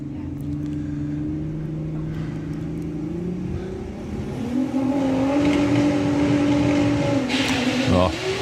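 Drag racing cars, a Volkswagen Golf R and a Cadillac, at a strip, engines droning and then rising sharply as they launch, loud and close, building to a hard revving pull near the end.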